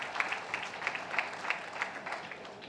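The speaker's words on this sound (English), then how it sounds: "Please give Ravindra Shetty and his team a big round of applause." Audience applause at a Rotary district conference in Mangaluru, steady and fairly quiet, with a dense wash of many hands clapping from some distance for nearly three seconds.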